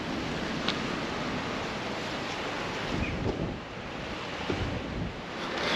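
Surf breaking on Ventnor Beach on the Isle of Wight, a steady broad wash of waves with a few swells of crashing water and some wind buffeting the microphone, heard alone with no voices.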